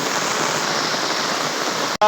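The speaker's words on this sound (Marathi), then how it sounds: "पाऊस कसला मोठा पडत आहे बघा" Heavy afternoon rain pours down on farmland with water rushing, a dense, loud, continuous hiss that cuts off abruptly at the very end.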